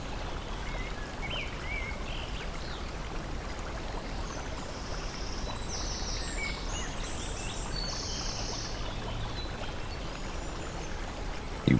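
Babbling brook in a quiet natural setting: a steady, close wash of flowing and trickling water runs throughout, with faint high chirps drifting in partway through and no voices.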